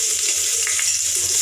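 Spices for a Mangalore-style southekayi sambar sizzle in hot oil with Byadgi chillies and curry leaves, a loud, steady close-up frying hiss with faint crackles and no talk.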